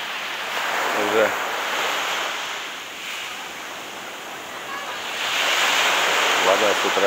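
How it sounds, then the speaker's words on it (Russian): Ocean waves roll in on a Hawaii shore near a pier, with swelling surges and steady wind noise. Brief voices are heard now and then. "посмотрите, там какие волны"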